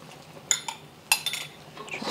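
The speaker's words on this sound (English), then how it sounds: "Try to give it a good stir." A utensil clinks and scrapes against a pan while a simmering sauce with cornstarch slurry is stirred for beef hor fun, a few sharp metallic taps over a quiet background hiss.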